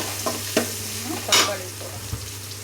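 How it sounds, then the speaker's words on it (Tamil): Onions or aromatics for tomato thokku sautéed in a pan, with intermittent stirring scrapes and a soft steady sizzle, a few louder stirs standing out. "ஒரு 5 மினிட்ஸ் நல்லா வதக்கணும்"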